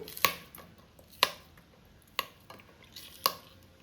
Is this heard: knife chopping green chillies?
yes